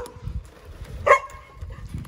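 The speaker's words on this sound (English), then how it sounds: "My first task for the morning is to let out the puppies." A puppy in a dog kennel gives one short, sharp yip at moderate distance amid faint shuffling and low background noise.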